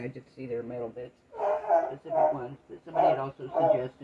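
A dog barks in sharp, repeated bursts indoors while a person keeps talking over it; the barks come close and fairly loud, interleaved with the speech.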